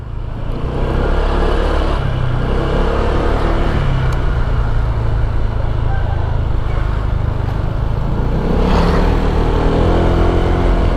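A Honda Vario 160 scooter (2022) climbs a hill, its engine a loud, steady drone with rushing wind noise that holds throughout and swells slightly toward the end.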